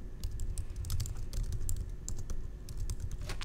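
Someone types on a computer keyboard while working in iMovie, quick irregular key clicks rattling steadily and fairly close over a low hum.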